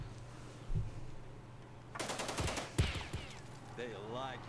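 Gunfire in Jagged Alliance 2: Urban Chaos, with several sharp shots in a short cluster in the middle, mixed with speech before and after.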